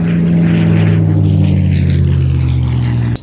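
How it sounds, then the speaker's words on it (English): A restored Russian Spitfire flies past with its piston engine roaring loudly and continuously, the propeller drone sliding slightly lower in pitch as it passes before cutting off abruptly. "It's a Spitfire, but not just any Spitfire, it's a Russian Spitfire."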